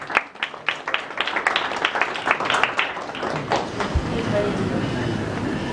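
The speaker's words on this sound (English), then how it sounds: "Let's give him a round of applause." Applause at an awards ceremony for an award winner: clustered handclaps fade into a looser, thinning patter and then a diffuse room murmur, moderately loud and without clear speech.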